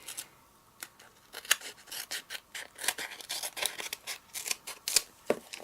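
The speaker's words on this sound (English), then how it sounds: "and then snip off what you don't need" Scissors snip excess protective sheet off card stock during wedding card making, a quick run of sharp, close cuts and rasping blade slides in irregular rhythm with no talking.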